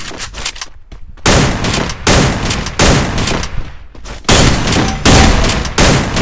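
Gunfire in the video game Free Fire, loud rapid automatic bursts of shots in several long volleys separated by short gaps, close and dominant throughout.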